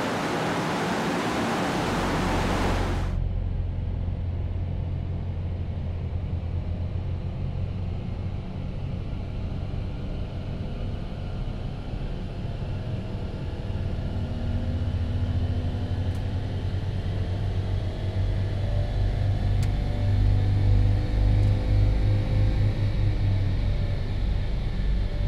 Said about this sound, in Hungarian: nézzük, mit tud ez a 3 hengeres autó a próbavadon.